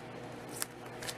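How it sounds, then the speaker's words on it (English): Scissors snip open a plastic comic book bag, two quick crisp cuts close by, separated by about half a second, over a quiet room background. "Get yourself a pair of scissors"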